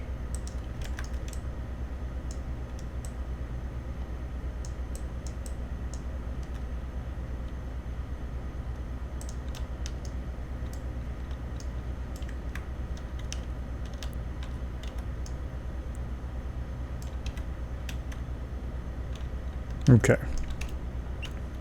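Light clicks of typing on a computer keyboard while using the Far Cry 5 Arcade map editor, scattered quiet keystrokes over a steady background hum, with a brief spoken word near the end.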